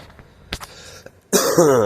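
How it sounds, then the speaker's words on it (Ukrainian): A person with a cold coughs a few times outdoors on a walk, short throat-clearing bursts followed by a harsher, louder cough close to the microphone. "Кашель щось і таке"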